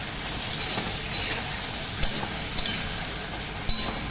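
Potatoes frying in oil in a wok for a village neem-leaf and potato dish give a continuous close sizzle, stirred by hand with a few sharp scrape-and-clink hits of the spatula against the pan.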